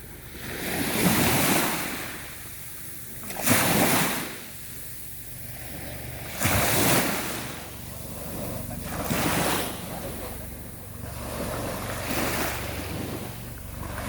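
Sea waves breaking on the beach at Koh Kham, Thailand, rolling in every few seconds as loud swells over constant surf and wind noise on the microphone.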